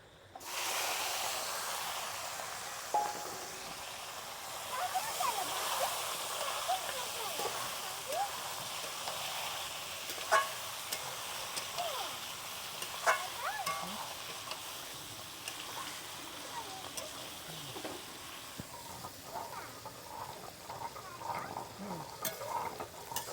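Duck meat for a Bengali village-style curry hits a hot pan and sizzles steadily, with a continuous hiss and frying crackle and occasional stirring scrapes throughout, fairly close and moderately loud.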